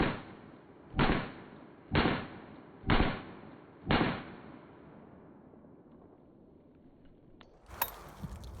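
Five sharp pistol shots from a Ruger LCP 2 .380 fired rapidly from a pocket outdoors on a cold day, evenly spaced about a second apart, loud and close, followed by fading ambience and a couple of small clatters.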